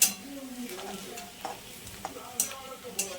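Onion fries in hot oil as it browns, producing a soft, continuous sizzle broken by a few sharp scrapes and taps from stirring, with no voices.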